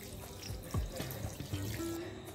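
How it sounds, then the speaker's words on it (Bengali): Cold tap water runs over freshly made chhana (cottage cheese) in a cotton cloth, a faint, steady trickle and splash with scattered drips close by. "এবার আমি ঠান্ডা জল দিয়ে ছানাটাকে ভালো করে ধুয়ে নেব।"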